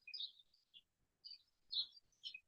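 Faint, high bird chirps come in short scattered bursts outdoors, several quick calls separated by brief pauses, with no talking.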